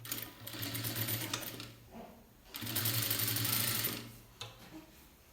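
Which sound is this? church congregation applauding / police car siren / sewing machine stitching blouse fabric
sewing machine stitching blouse fabric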